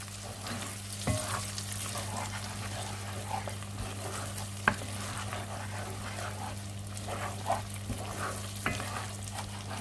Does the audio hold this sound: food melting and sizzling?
yes